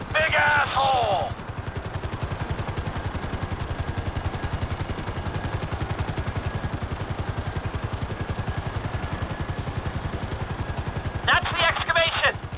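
Helicopter hovering in GTA 5 over a construction site excavation, a loud rapid rotor chop pulsing steadily throughout, with brief radio-style voice bursts at the start and end.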